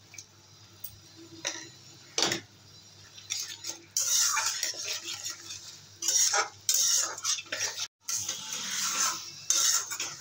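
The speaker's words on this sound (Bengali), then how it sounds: "মশলাটা 2 মিনিটের মতো কষিয়ে নিলাম।" A spoon stirs and scrapes a spice masala with chopped tomato in a pan, giving irregular clinks and scraping bursts close by over a faint background hum.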